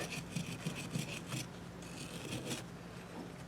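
Soft-bristle brush scrubbing a guitar during a setup, a dry rasping rub in short strokes for the first second and a half and then a few more later, close and fairly quiet with no talk.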